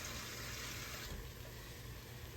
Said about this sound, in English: And I'm gonna put 2 more cups of water.